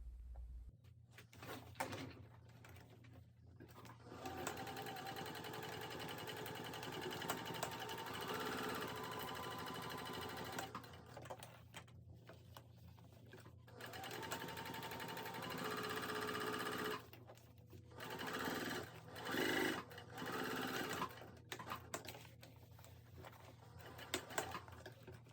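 A sewing machine stitches the corners of a tote bag in bursts of rapid mechanical chatter, stopping and restarting several times for backstitching, close and steady with short quiet pauses between runs.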